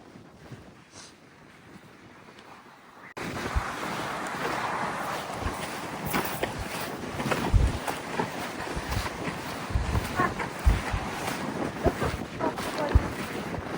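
Strong, cold wind at a UK beach buffets the microphone with a roaring rush and gusty thumps, alongside a steady wash of surf in the background.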